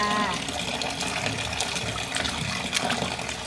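Water gushes steadily from a tap onto vegetables being washed, a continuous splashing rush close by, with faint voices under it.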